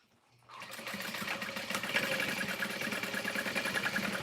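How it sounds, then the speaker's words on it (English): A sewing machine starts up and stitches continuously around the top of a garment, a steady fast mechanical whir close and moderately loud with no voices. "I'm sewing around the top again"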